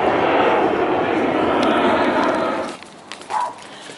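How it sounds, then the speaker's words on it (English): An airplane passes overhead in California, a broad roaring wash of engine noise that holds steady and then fades out, with a brief voice near the end. "Another plane."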